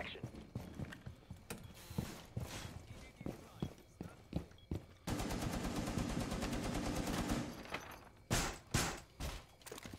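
Gunfire during a Rainbow Six Siege match, with scattered sharp shots and clicks, then a dense rapid automatic burst in the middle, followed by a few more loud bangs near the end.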